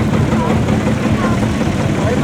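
A Chamberlain tractor retrofitted with a Perkins engine runs at a steam rally showground in Stoke Row, a loud low idling rumble steady throughout, with people talking close by over it.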